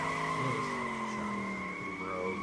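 A car in the visual novel The Fruit of Grisaia roars around a bend, a sustained tonal engine whine laced with squealing tires, fairly loud and close, with no voices over it.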